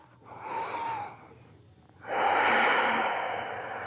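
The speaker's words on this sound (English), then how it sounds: "big stretch and a full breath" Deep, full breaths taken during a yoga stretch: a soft airy inhale, a short pause, then a longer, louder breath heard up close in a quiet room.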